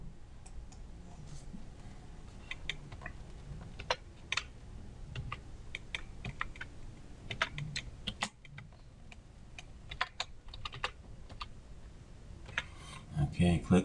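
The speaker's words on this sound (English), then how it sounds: "And you just type this in." Computer keys are tapped at a moderate pace in scattered bursts of clicks, fairly quiet and close, with short pauses between runs of keystrokes.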